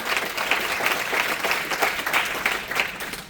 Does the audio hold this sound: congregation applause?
yes